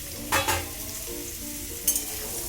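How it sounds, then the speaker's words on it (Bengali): Pumpkin pieces frying in hot mustard oil make a continuous bubbling sizzle, close and fairly loud, with two brief bursts of hissing spatter. "কুমড়োটাকে আমি আগে ভালো করে ভেজে নেব"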